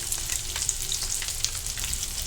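Eggs frying in a pan with a sprinkle of turmeric for egg curry, giving a dense, steady sizzle peppered with fine crackling pops, close up and continuous.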